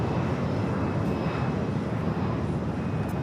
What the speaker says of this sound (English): Japan Airlines flight 69 heading to Osaka, 787-9 Dreamliner. Next takeoff for us here on the south side.